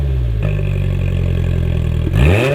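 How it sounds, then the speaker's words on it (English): A 2020-or-later Polaris Slingshot with a front exit exhaust system idles with a loud, raspy, steady drone, then blips the throttle near the end in a sharp rising rev. "the most ear-pleasing front exit exhaust system we've"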